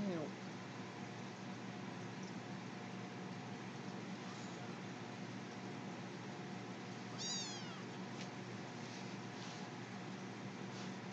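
A kitten meows indoors, with a brief high mew near the start and another rising cry later, heard over steady broadband room noise and a person talking.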